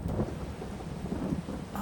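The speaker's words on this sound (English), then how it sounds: "it's raining" Rain and a low rumble of thunder roll through a stormy farm scene in Farming Simulator 22, a steady wash of rainfall beneath a deep, swelling rumble.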